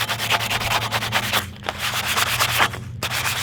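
Sandpaper is rubbed by hand over a metal skateboard rail in quick, rhythmic back-and-forth strokes, loud and close, with brief pauses between bursts.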